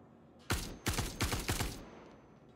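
Four sharp gunshots in quick succession from a Star Citizen firefight during a bounty hunt inside a facility, each with a short echoing tail, fairly close, with no talking.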